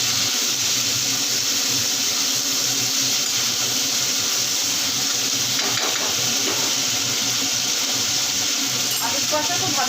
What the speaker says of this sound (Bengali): আলু স্কোয়াশটা খুব ভালো করে ভাজতে হবে।